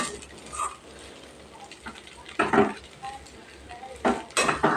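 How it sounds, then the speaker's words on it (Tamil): Rava upma being stirred in a metal pan, with a spoon scraping and clinking against the pan in a few loud bursts over a steady low background. "இங்கே பாருங்க ஃப்ரெண்ட்ஸ், இப்படி கிளறணும்"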